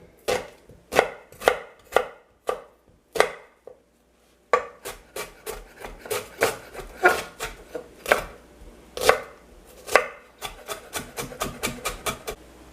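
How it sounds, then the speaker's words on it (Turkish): A knife finely chops an onion on a cutting board, sharp rhythmic thuds with a brief pause midway, then faster, closer strokes as the chopping continues. "ilk olarak soğanımı incecik kıyacağım ve yemeğimi yapmaya başlayacağım"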